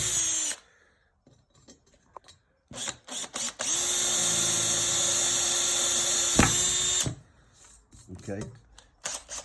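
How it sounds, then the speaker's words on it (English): A power drill whines steadily for several seconds, loud and close, drilling through a van panel after some brief clicks and handling noises, then stops abruptly with scattered clatter. "And we've got 2 holes here, so now we're going to drill through."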